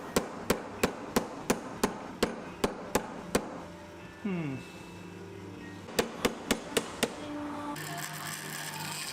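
A hammer strikes a wooden wedge glued into an axe handle in a run of sharp, evenly spaced knocks, followed by a brief pause with a scraping tone and then several more close, ringing blows.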